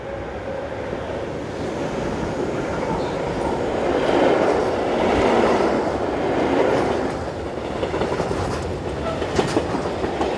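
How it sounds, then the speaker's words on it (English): Mixed freight train hauled by locomotives 185093 and 111 on a European line: a continuous rumbling roar of passing wagons with faint clickety-clack, swelling midway and staying loud throughout. "Looking north, we see another mixed freight headed by 185093 and 111."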